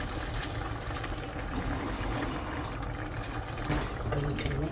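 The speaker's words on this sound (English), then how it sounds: "Now I'm going to just add some hot boiling water." Hot boiling water pours steadily into a pot with a rushing, gurgling wash that lasts the whole stretch, with no voices.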